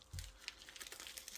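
A pouch of junk constitutional silver dimes is cut open up close, giving a brief crinkling, tearing rustle of packaging with a few small sharp clicks over about a second.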